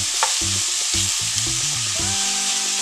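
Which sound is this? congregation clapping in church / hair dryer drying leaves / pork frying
pork frying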